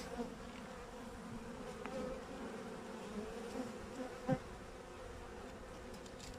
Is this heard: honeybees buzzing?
yes